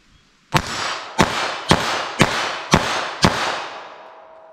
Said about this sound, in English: So 32 ACP. Let's see how this shoots for me.